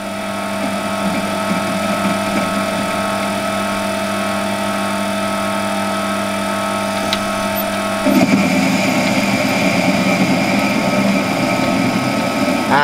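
A lathe facing off a part with a long stick-out on light passes gives a steady hum of motor and spindle, with the cutting tone getting louder and rougher partway through and carrying on to the end.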